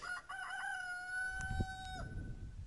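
A rooster crows once, a clear drawn-out cock-a-doodle-doo close by, fairly faint overall, followed by a brief thump and low rustle.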